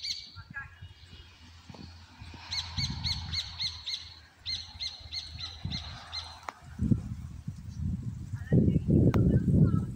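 A small bird calling among cicadas, with quick bursts of bright repeated chirps in short series, then rustling and handling noise and some soft voices toward the end.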